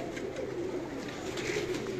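Prized pearl-marked pigeons coo in a continuous low, warbling murmur, close and steady, with no talk over them.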